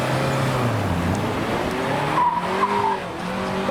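Mazda MX-5 sliding past a drive-by car show, its tires squealing in rising and falling wails over a steady engine drone, fairly close and loud.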